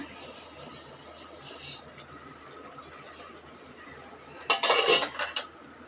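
Vermicelli goes into a pot of simmering masala water, heard as a steady background bubble followed by a louder close burst of rustling and metallic clatter near the end, with no talking.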